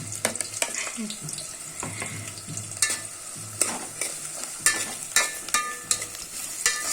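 Chopped onions stir-fried over high heat in a pan: a low sizzle broken by frequent sharp scrapes and clacks of a spatula, irregular and close, with no talking.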